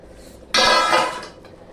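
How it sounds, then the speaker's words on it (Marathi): A lid comes off a pot of steamed restaurant-style mixed vegetables in a home kitchen, giving one sudden loud hissing, clattering burst that fades over about a second in an otherwise quiet room. "चला आता आपण भाजीवरचं झाकण काढूया"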